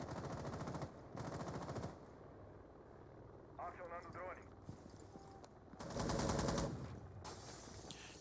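Automatic gunfire bursts from the tactical shooter Rainbow Six Siege during a pro league match, several rapid volleys in loud clusters with quieter gaps, under ongoing commentary.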